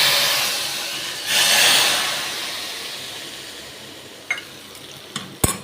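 A hot tadka of coarsely crushed fenugreek seeds, mustard seeds, hing and whole red chilies is poured into pakora kadhi. A loud hissing sizzle bursts up, fades to a steady frying crackle, and ends with a few sharp clinks of a utensil.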